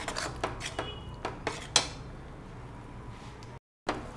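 Ground coconut is fried in a pan over high flame for coconut milk chicken curry, with a utensil scraping and clinking against the pan in about six sharp, regular strokes over a faint background.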